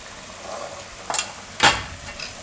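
Turmeric, coriander-cumin powder and red chili go into a masoor lentil gravy in a pan, heard as two brief bursts of sizzling and scraping over a faint, quiet background.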